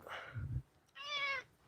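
A pet cat gives a single clear meow close by, following a brief rustle and low thump, with quiet indoor room tone around it.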